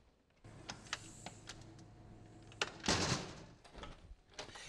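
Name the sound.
storm door closing with a door closer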